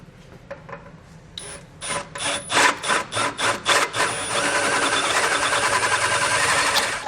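A hole is cut through a steel frame rail on a 2019 Toyota Corolla for a base plate bolt, heard as a rapid series of rhythmic rasping strokes, then a continuous loud grinding buzz, close and with no talk.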